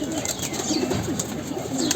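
Pigeons coo in a loft crowded with stray visiting birds, soft overlapping low calls repeating steadily against a constant background hum, with no clear speech.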